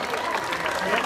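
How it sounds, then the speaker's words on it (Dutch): Applause rises from a festival crowd at Slagharen's 60-year celebration for the performer Steven, a dense, steady wash of clapping heard at middle distance with some voices mixed in. "Applaus voor Steven"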